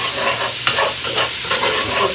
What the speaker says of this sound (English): And then we're going to give this a really good mix.